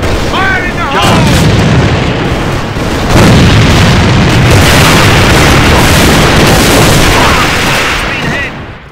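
A grenade explosion in the A.V.A video game arrives amid a loud, chaotic battle of continuous gunfire and booms, with shouted voices heard in the mix.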